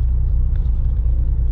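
A vintage Porsche 356 rumbles low and steady from inside the cabin while driving on a rally, a brief, even engine drone with no talk.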